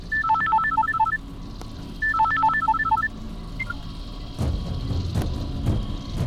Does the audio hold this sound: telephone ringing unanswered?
yes